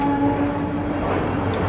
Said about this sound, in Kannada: ನಿಮ್ಮ ಟ್ರೈನ್.